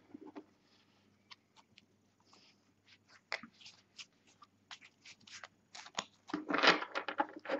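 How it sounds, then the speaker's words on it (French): A deck of playing cards is shuffled by hand, soft riffles and slides that start sparse and quiet, then build into denser, louder bursts toward the end. "Donc tu vas mélanger le jeu"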